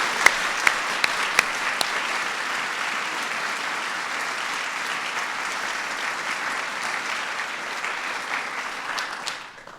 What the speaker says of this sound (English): So let's just give them all another round of applause.